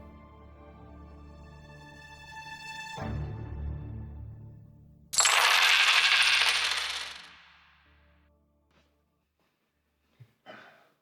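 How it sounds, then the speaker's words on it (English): Silver coins are thrown down and scatter in a temple, a bright jangling crash of metal that rings and clatters for a couple of seconds before settling, then a few faint clinks as stray coins come to rest. "Judas threw the silver coins into the temple and left"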